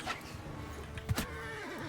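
A horse whinnies loudly in a video game with a wavering, trembling neigh over a steady game-like background rumble, with a brief thump midway.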